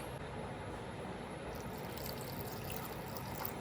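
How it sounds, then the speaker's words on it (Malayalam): Water is poured onto grated coconut to blend thick coconut milk, a quiet, steady, even rush of liquid that runs unbroken for a few seconds with no voices. "കുറച്ച് വെള്ളം ഒഴിച്ചിട്ട്"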